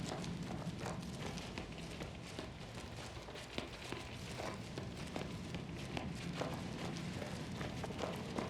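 Blighted horse riders' hooves clatter in a steady, continuous clip-clop through King's Bounty II, moderately close and mixed with background game sound.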